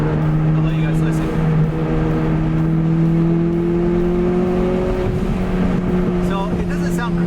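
Exhaust of a Toyota MR2 Turbo heard from inside the car with the window down, engine droning steadily as it downshifts from sixth to fifth to fourth, a continuous loud hum with rising pitch and no talking.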